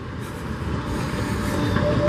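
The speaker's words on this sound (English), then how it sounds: "tram. That's not a retro tram." Tram rolling along a street in Iași, Romania, a steady loud rumble with a faint tonal hum, heard close by for a couple of seconds.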